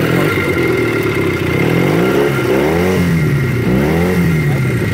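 A 1960 Velocette Valiant 200cc motorcycle engine, hot-started, revs up and down in two rising and falling sweeps over a steady idle, loud and close with no talk.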